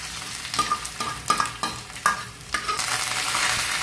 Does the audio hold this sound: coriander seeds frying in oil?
yes